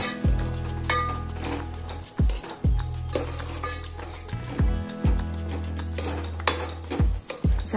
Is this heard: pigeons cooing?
no